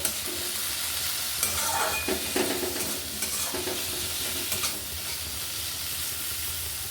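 Potatoes with turmeric and cumin powder stir-fry in a hot pan, giving a steady close sizzle broken by a few louder stirring scrapes, with no talk.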